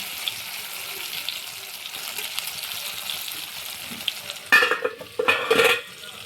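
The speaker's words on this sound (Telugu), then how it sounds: "ఈ వంకాయలు మొత్తం దానిలో వేద్దాం. ఫ్రెండ్స్, కొంచెం ఫ్రై అవ్వనిద్దాం." Brinjal pieces fry in oil in a pan, with a faint steady sizzle followed by a few louder bursts of crackling and stirring near the end.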